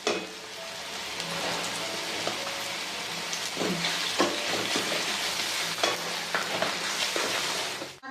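Chopped onion and tomato frying in a pan for egg bhurji, a continuous close crackling sizzle with occasional louder stirring scrapes and spatters.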